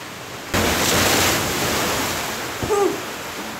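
Ocean water surges through a sea cave at Puerto Escondido, Mexico, as a sudden loud, broad rush that slowly eases. A voice calls out briefly over the roar.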